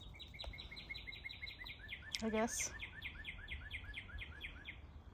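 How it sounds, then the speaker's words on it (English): A songbird sings outdoors in a rapid repeated chirping series that carries on steadily at moderate distance, while someone briefly speaks partway through. "Boy, that bird is really singing his heart out today."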